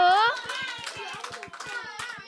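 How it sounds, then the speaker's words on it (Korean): Quick, evenly spaced claps from a group of children at a church youth recreation game, with excited young voices and chatter running over the rhythm throughout. "수고하셨다고 박수."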